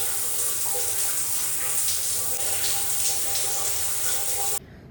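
A shower runs in a hostel bathroom, its water hissing loud, close and steady for several seconds before cutting off abruptly near the end.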